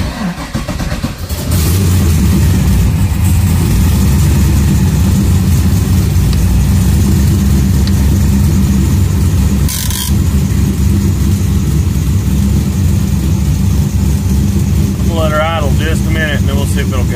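A vehicle engine starts, then runs loud and close as it heads out for a ride. Its rumbling drone holds steady with slight revving fluctuations, and a brief sharp noise cuts through midway.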